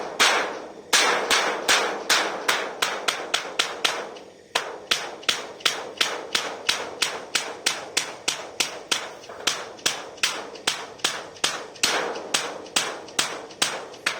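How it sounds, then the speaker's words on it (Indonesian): Steady, loud hammer blows driving nails into a wooden board while fitting boards on a rodent- and pest-proof swiftlet house, a fast regular series of sharp close strikes that continues after a brief pause, with no talking. "itu kita paku"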